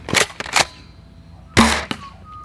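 A Game Face Trion airsoft gun fires about four sharp, close snapping shots, two quick pairs separated by a short quiet gap.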